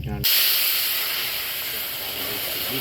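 Spices and ginger tempering in hot oil in a Bengali kitchen: a loud, steady, close hiss of sizzling bursts in abruptly and continues unbroken to the end.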